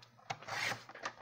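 Paper is trimmed close by, cutting the top off a die cut in one short scraping rasp lasting about a second.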